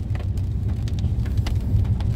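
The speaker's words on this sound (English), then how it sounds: "it's raining, it's pouring" Heavy rain pours on a British Columbia campsite, a dense, loud patter with a low rumbling undertone and scattered sharper drop hits throughout.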